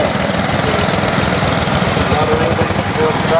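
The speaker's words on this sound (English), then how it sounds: "now we've got Murray Top with his B250 International" International B250 three-cylinder tractor at a machinery show, its engine running loud and steady with a throbbing, knocking idle that holds constant throughout at close range.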